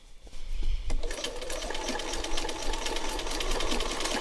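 A sewing machine quilting, its needle running in a fast, steady stream of rapid mechanical ticks and whirring with no pauses and no voices.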